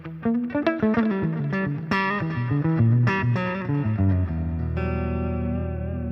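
A clean electric guitar through a Boss Katana 100 amplifier, with treble and presence raised, plays a quick run of bright notes, ending on a ringing, sustained chord.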